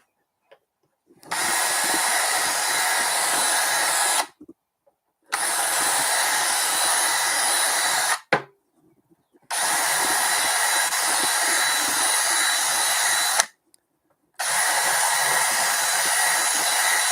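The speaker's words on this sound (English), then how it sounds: "Widening up these holes a little bit." A power tool widens potentiometer holes in a stylophone case, four loud steady high-pitched whirring bursts of about three seconds each, separated by brief silences, close up.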